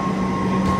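A metro train at Kavi Subhash station on the New Garia to Ruby line, a brief steady hum and rumble of the train with a faint tonal whine, heard alone.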